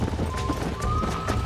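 Horses in the Red Dead Redemption video game clop along with quick rhythmic hoofbeats under steady game ambience and a faint tonal hum, over a short stretch.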